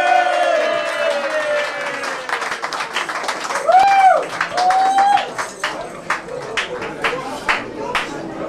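An audience at a twelve-bar blues band's CD presentation breaks into scattered clapping that thickens into steady applause, with a few whistles and crowd voices mixed in.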